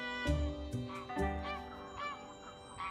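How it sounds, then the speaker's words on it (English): Greylag geese honk in a loose series of nasal calls, several birds overlapping, sounding somewhat distant against a quiet background. "The distant honking of grey-lag geese."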